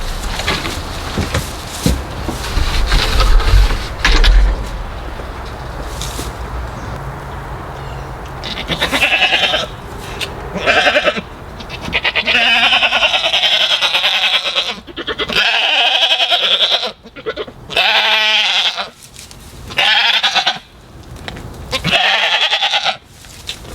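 Goats bleat repeatedly and loudly nearby in a garden, overlapping cries coming in bursts over a rustling background, growing more frequent in the second half.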